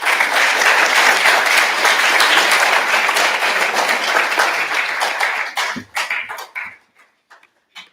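A lecture hall audience applauds to welcome a speaker, a dense, sustained wash of clapping that thins into scattered claps and dies out near the end.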